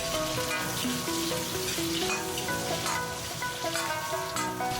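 Pork belly stir-fries in a wok with Sichuan peppercorns, ginger, garlic and garlic-sprout stems, a steady loud sizzle and hiss that continues throughout, with tonal background music underneath.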